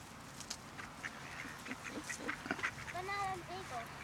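Ducks quack a few times while being fed outdoors, fairly close, mixed with bird calls and a steady background hum.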